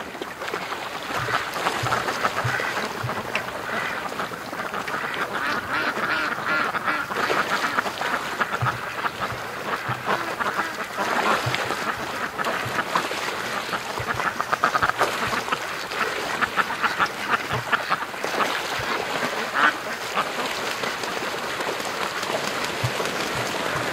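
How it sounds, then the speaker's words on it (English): Many ducks quack on a creek, repeated overlapping calls at moderate distance over a running background of water and outdoor noise, continuing throughout. "Something's causing the ducks to all come back."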